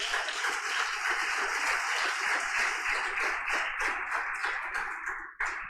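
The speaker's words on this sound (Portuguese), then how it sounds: "Dê um aplauso a Jesus." A church congregation applauding together, a dense sustained wash of many hands clapping that holds steady and then tapers off near the end.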